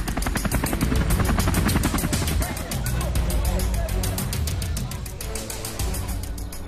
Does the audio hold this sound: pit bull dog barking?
no